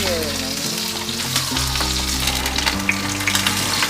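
Pork knuckle sizzles and fries in a non-stick pan, a loud continuous crackle with spitting bursts, while a low hum or tone steps through changing pitches beneath it.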